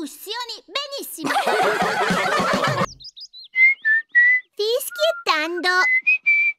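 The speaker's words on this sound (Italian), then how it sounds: "Fischiettando." A cartoon character whistles a cheerful tune in short, clear melodic phrases with gaps between them, preceded by voices and a burst of noisy clatter.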